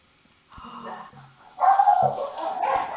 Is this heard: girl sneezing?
no